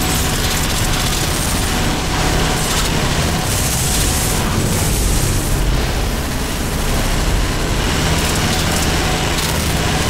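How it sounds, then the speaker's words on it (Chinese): Loud, continuous battle noise from the video game DUST 514: grenade explosions and gunfire blur into a dense roar with heavy booms and crackling bursts, and no voices. "先扔雷，再开枪"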